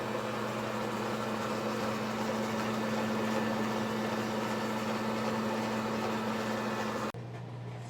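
An Ankarsrum stand mixer blends buttercream with a steady, loud motor hum and whir that runs unbroken, then cuts off abruptly near the end, leaving faint room noise.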